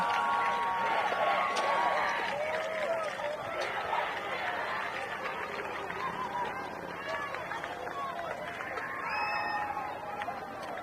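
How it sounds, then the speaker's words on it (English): A home crowd at a Bonneville high school 5A playoff football game against Hunter roars and chatters in a steady, sustained din from the stands, with a commentator talking over it throughout. "The Bonneville crowd fired up. They know what's about to happen."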